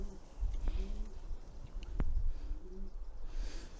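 A few soft, low coos from a Demancine hen pigeon murmur at close range over a faint background rumble.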